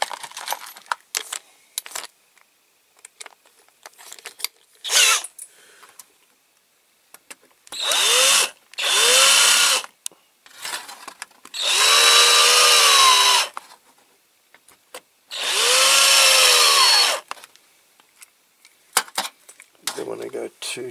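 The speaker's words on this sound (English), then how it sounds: "Just use a slightly bigger drill bit now." A power drill drilling out a rivet on a Dinky Toys Bedford TK model whines in three sustained bursts of a few seconds each, mixed with sharp metallic clicks and clatter between runs.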